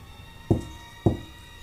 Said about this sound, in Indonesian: Bersamaan dengan dentuman jam, suara pintu terdengar seperti ini.